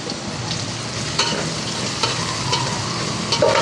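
Onions frying in a pan for misal while being stirred, a steady loud sizzle with occasional scraping clinks of the spoon against the pan.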